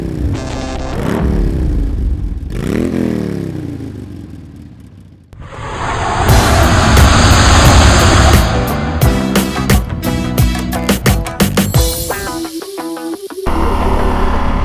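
A Yamaha Super Tenere motorcycle fitted with a Yoshimura exhaust pipe rumbles loudly close by, rising and falling through revs, with a brief lull before a deeper, harder roar and sharp crackling bursts toward the end.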